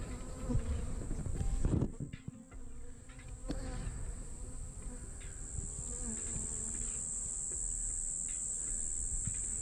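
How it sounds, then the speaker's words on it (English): Honey bees buzz during a hive inspection, with one agitated bee droning close by, a steady high insect hum running underneath and a brief louder rustle near the start. "a cranky bee coming at me there"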